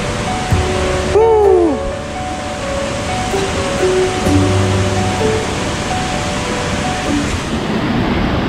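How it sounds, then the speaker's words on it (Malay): Steady broadband rush of the Gareg Waterfall reached on a hike, a constant roar filling the whole clip, with a few brief chirping calls rising above it near the start. "kita dah sampai dekat air terjun ni"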